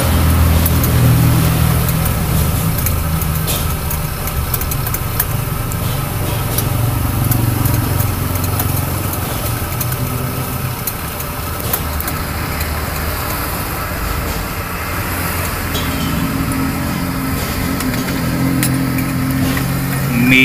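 A motorized grinding machine rolls dough for banana molen pastry, a steady mechanical hum and whir running continuously for the full stretch at close range, with faint background clatter.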